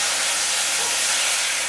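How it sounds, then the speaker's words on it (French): Chicken seasoned with paprika, salt and pepper sizzles in a pan alongside gambas, giving a loud, continuous, dense crackling hiss up close with no talking. "On entend le poulet crépiter."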